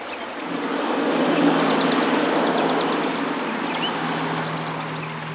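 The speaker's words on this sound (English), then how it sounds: "the soothing sounds of gently flowing water" A river at Mingenew flows gently with a steady, soft rushing wash, accompanied by a low, constant hum in the background.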